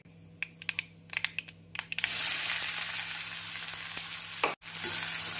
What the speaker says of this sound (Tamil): கடுகு, ஜீரகம் பொரியவும் நறுக்கிய வெங்காயத்தை போட்டு விடலாம்.